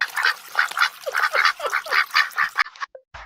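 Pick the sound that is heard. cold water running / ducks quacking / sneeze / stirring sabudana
ducks quacking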